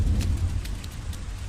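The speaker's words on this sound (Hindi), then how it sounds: "अरे ये देखो, बारिश शुरू हो गई। तभी पूरे इलाके में झमाझम बारिश गिरने लगी।" Heavy rain pours steadily in a loud, dense wash, with low rumbles that could be thunder and a few brief brighter crackles, and no voices.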